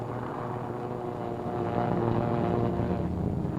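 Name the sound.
B-25 bomber aircraft engines during takeoff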